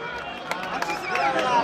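Crowd applauding at a 2019 championship event in Muğla, Turkey, a short stretch of scattered, fairly close clapping with some crowd noise beneath it.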